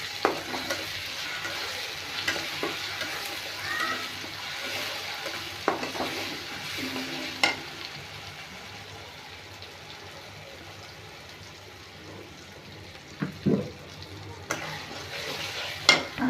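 Onions sizzle in mustard oil in a pan, with a steady frying hiss and occasional scraping stirs and clinks, close by, and a few faint sharper knocks near the end.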